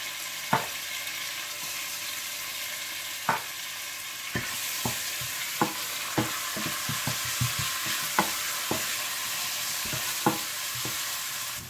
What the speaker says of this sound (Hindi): आप इसमें अदरक लहसुन और हरी मिर्चें डालकर थोड़ा सा भून लीजिएगा।